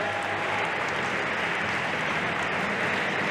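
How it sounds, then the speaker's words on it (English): Steady, dense applause from a crowd at a national BMX freestyle championship pro final, a continuous wash of clapping that fills the whole stretch without pause. "Clapping from the crowd."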